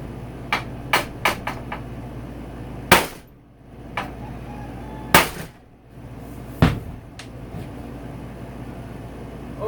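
Hammer blows on a bent steel motorcycle sub frame, a YZ250, sharp metallic whacks at irregular intervals, a few light taps then several heavy ringing strikes, close and loud with no talking.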